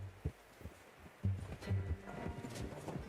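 Horse in the Red Dead Redemption 2 video game, with soft hoof clops and low snorting or breathing thumps in an irregular rhythm, fairly quiet and close.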